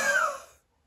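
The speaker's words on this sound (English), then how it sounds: "the long huff" A long huff from a physiotherapy airway-clearance exercise: one sustained, forceful breathy exhalation through an open mouth, heard close and alone, with a slight rasp before it fades out into silence.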